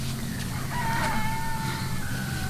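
A rooster crows once nearby, a clear drawn-out cock-a-doodle-doo rising and holding over faint background noise, with no speech.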